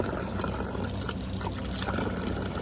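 Water from a fountain in Venice trickles and splashes in a steady, moderately loud stream with no pauses, heard alone without talk.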